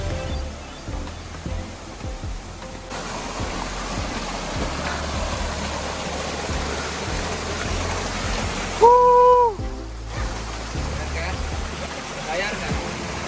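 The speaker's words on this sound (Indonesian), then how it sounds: "Ini adalah air terjun air panas yang ada di pendakian puncak Gunung Pangrango ini." A hot spring waterfall on the Mount Pangrango hiking trail rushes steadily nearby, a continuous broad splashing roar, with a brief tonal whistle partway through.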